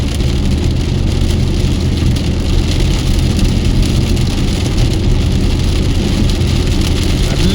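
Heavy rain drums steadily on a car moving along Al Khail Road in Dubai, with a dense continuous hiss of water and tyre spray over a low engine hum, loud and unbroken throughout.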